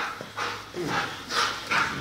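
A dog barks several times at moderate distance during obedience training at a kennel, in a steady run of separate barks with faint background noise.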